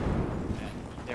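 Explosions in the shooter game Battlefield 2042 make a dense, continuous low rumble and crackle of blasts and gunfire, loud and close throughout.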